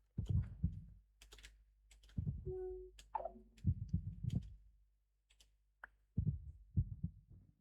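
Heartbeats pulse in a Minecraft-style survival game, soft low thumps arriving in uneven clusters with quiet gaps and a couple of short synthetic tones between them.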